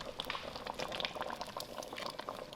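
A pot of wedding-style dhal with brinjal bubbles and pops steadily at a boil, a close, soft patter of bursting bubbles with no voices over it.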